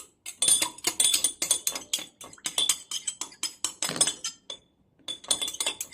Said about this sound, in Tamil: அடுத்ததாக டிஎம் வாட்டர், கிளிசரின் மிக்சரை ஊற்றி நன்றாக மிக்ஸ் பண்ணி கொள்ள வேண்டும்.